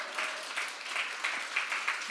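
A church audience claps in a soft, distant patter, with a few slightly louder claps standing out briefly.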